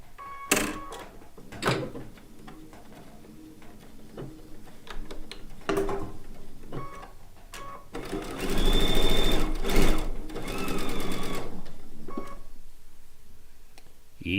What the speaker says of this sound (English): So I'm going to sew these together 2 at a time, every bit of it.